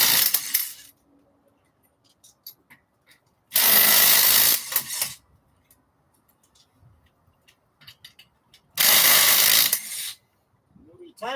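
A DeWalt power tool gun rattles in two loud, close bursts of about a second and a half each while turbo parts come off, with quiet clicks and handling noises in the pauses.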